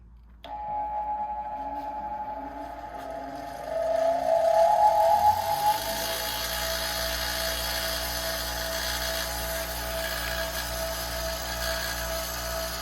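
An old bench grinder fitted with grinding wheels switches on with a sudden onset, its motor whine rising in pitch to a louder peak, then settling into a steady, fairly quiet hum that continues to the end.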